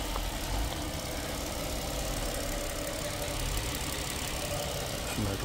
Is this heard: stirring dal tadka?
no